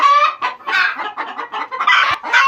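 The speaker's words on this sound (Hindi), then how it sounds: "तो यार मुर्गियों ने बहुत ही ज़्यादा शोर मचा दिया है" Chickens in a mini zoo enclosure cluck loudly and agitatedly in rapid overlapping bursts, close by and alarmed at a newly introduced animal.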